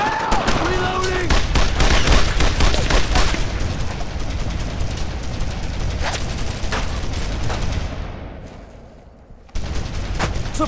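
Dense, continuous gunfire from the World War II shooter Brothers in Arms: Road to Hill 30, with rapid rifle and machine-gun bursts, loud and close, the battle noise running steadily with voices shouting through it and a brief dip near the end.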